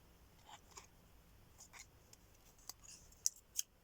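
Scissors snip through paper while cutting out pieces for a floral card, a series of soft, irregular crisp clicks and rustles, close and quiet, with a couple of sharper cuts near the end.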